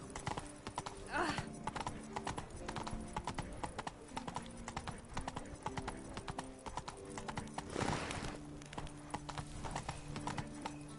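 Galloping horse hooves in The Witcher 3 video game drum in a fast, continuous clip-clop, moderately loud, with a couple of louder bursts and brief voices over the ride.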